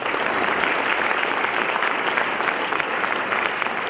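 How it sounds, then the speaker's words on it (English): Large audience at a wildlife awards ceremony applauding, a dense, sustained wash of clapping at steady loudness from start to finish. "Round of applause."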